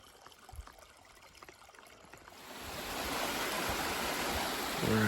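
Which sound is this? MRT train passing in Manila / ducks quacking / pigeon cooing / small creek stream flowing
small creek stream flowing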